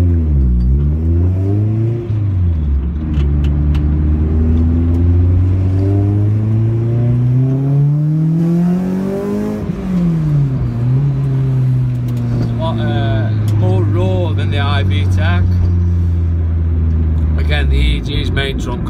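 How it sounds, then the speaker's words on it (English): A Honda B18C engine in a JDM DC2 revs repeatedly, climbing and falling in pitch with a loud, close rasping tone that rises to a high-rpm peak before settling back, with no talk over it. "It's the first b18c I've had, and fucking rips, to be fair. Makes great noise."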